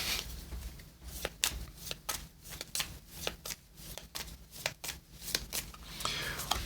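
A deck of cards from the Dragon Eclipse board game is shuffled by hand in a quiet room, quick riffles and snaps arriving in an uneven rapid series of soft crisp bursts.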